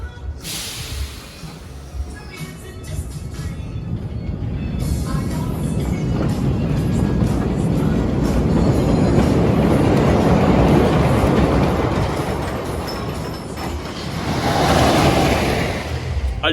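A coaster train on Boulder Dash at Lake Compounce, ridden in the front row, rumbles and roars steadily, building to a loud sustained rush with rattling wheels, then swells again near the end.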